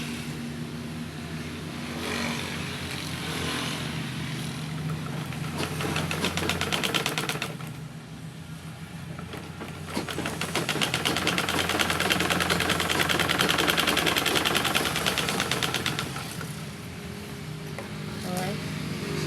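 A sewing machine stitches a side-seam pocket on a dress in two long bursts of rapid, rattling stitching separated by a short pause, heard up close.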